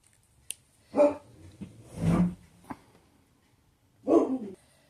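Pet dogs bark in several loud, close bursts at another dog passing by, with short gaps of quiet between the barks.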